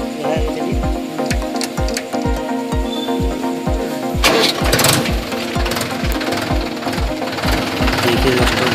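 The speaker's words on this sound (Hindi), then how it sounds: "देखिए दोस्तों, हम ट्रैक्टर को स्टार्ट करने जा रहे हैं अभी।" A Mahindra 265 DI tractor's diesel engine runs close and loud in rapid, even knocking beats, swelling with a burst of extra clatter partway through, while someone talks over it.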